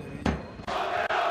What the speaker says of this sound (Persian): این هوادارهای تیم داماش هستن که دارن تیم خودشون رو تشویق میکنن